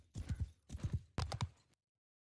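Horse archers' hooves gallop in the video game Bannerlord, three quick rhythmic bursts of thudding clip-clop, fairly quiet, then sudden silence.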